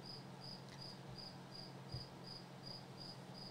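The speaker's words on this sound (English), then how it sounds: "Am I the only one that likes the crickets, Ryan Angie said?" Crickets chirping in a steady, evenly spaced pulse, about a dozen regular trills under a low background hum, with one brief faint thump.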